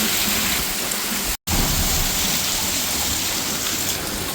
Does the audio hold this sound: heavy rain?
yes